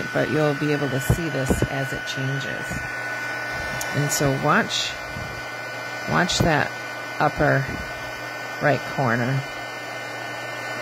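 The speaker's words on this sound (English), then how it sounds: "Excuse the noise while I heat" A steady, breathy whoosh of a hot-air tool runs throughout, with a faint hum underneath, while a person talks over it.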